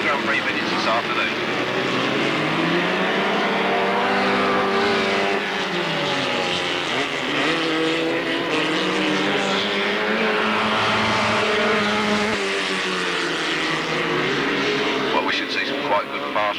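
Grand Prix Midget race cars run a race on a rough, worn track, their engines a loud, continuous drone that rises and falls in pitch as they lap, with a commentator talking over it throughout.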